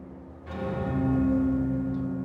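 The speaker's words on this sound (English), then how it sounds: "Sky better have a good reason for ringing that bell." Bell rung in the video game Jade Empire: a single struck tone that rings on with a sustained, humming resonance and slowly fades, with no talking.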